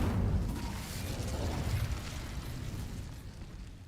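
Incendio fire spell setting dry vines alight in Hogwarts Legacy, a broad whooshing burst of flame that swells at once and then fades into a long crackling rumble.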